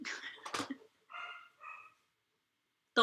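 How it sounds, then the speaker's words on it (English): Puppies bark in a few short, close, fairly loud bursts separated by brief pauses, with one more sharp bark at the end after a silent gap. "That's puppies, like, they'll bark for a second and then they'll be done with it"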